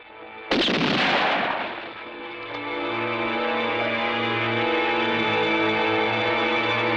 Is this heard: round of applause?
no